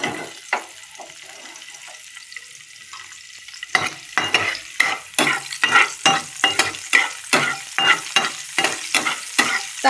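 Leafy greens dropped into hot oil with garlic and green chillies in a home kitchen pan, a quiet start giving way to loud, steady sizzling broken by rhythmic stirring scrapes and clatters.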